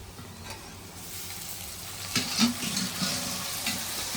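Broad beans fry with onions in a hot pan for a vegetable curry, a soft steady sizzle that grows louder and busier midway as the beans go in, with a few stirring scrapes.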